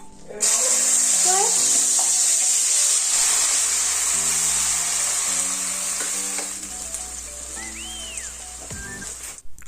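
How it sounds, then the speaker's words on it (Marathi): A continuous sizzle of ground spice paste frying in oil runs throughout, with soft melodic tones in the background and a few utensil sounds near the end. "आता हे सगळं वाटण मी तेलामध्ये छानपैकी असं कलसू देणारे"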